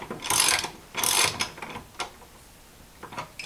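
A ratchet wrench removes bolts from a Mercruiser Alpha One outdrive, with several close clicking bursts, two longer runs at the start and shorter ones after, and no talk.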